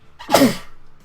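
A single sharp sneeze bursts out loud and close, rising quickly and fading within a fraction of a second against a quiet background.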